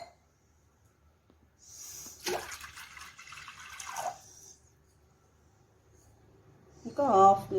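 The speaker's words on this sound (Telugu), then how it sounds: "ఇప్పుడు ఒక మట్టి పాత్ర తీసుకొని ఈ పాత్రలో కూల్డ్ వాటర్ వేసుకుందాము." Cooled water pours into a clay pot, a close, splashy stream lasting a couple of seconds, followed by quieter handling and a short burst of clatter at the end.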